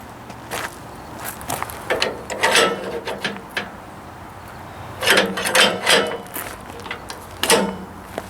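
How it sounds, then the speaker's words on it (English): Log clamps are fitted onto a log before milling deck boards, producing a series of irregular metallic ratcheting clanks and wooden knocks in several bursts, close and moderately loud with no talking. "Put our log clamps on here."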